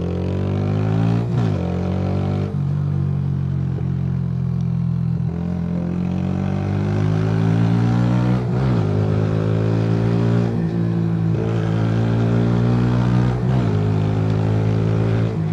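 A Mash Black Seven 125cc neo-retro motorcycle engine drones loud and close while riding, its pitch rising through the gears with several shifts and steady throttle.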